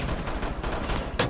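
Dense, loud gunfire in the tactical shooter Rainbow Six Siege, with rapid overlapping shots and a sharper blast near the end.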